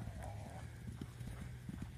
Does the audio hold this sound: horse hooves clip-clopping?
yes